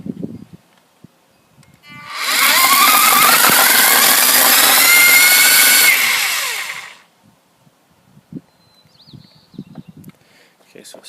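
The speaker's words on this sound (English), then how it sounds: "this is a dual trimmer line with a tap feature" A Ryobi 40-volt battery string trimmer with dual line spins up, whines at high speed for about five seconds, then winds down, loud and close, with handling clicks before and after.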